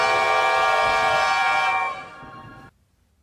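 A loud, sustained train whistle in the Trainz video game sounds for about two seconds, then fades sharply and cuts off, with a low rumble beneath it.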